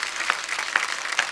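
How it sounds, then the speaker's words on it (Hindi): Short burst of studio audience applause on a Hindi comedy talk show, brisk clapping of moderate loudness with a few crisp individual claps. "एक बार जोरदार तालियां"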